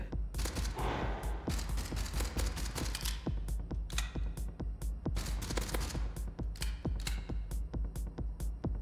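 Two turrets in the video game Gunpunk fire rapid, sharp shots at an irregular rhythm, loud and close, forming a continuous rattling volley from start to finish with no speech.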